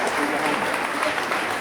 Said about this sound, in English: Well, I think they deserve a round of applause before we start.